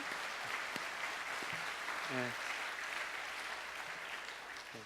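Audience applause at a mission conference, a steady, moderate patter of clapping from a seated crowd, with a brief spoken word and short voiced sounds rising over it.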